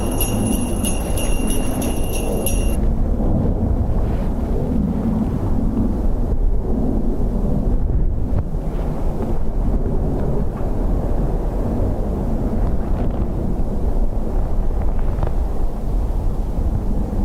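Strong wind buffets the microphone at Dublin Airport, a continuous low roaring rush with gusty swells throughout, loud and close, with no voices.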